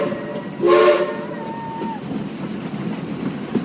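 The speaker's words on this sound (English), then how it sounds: "will you give me 3 toots on that whistle" A Silver Dollar City steam train whistle gives a short, loud toot followed by a fainter, longer tone, against a rumbling train ride background.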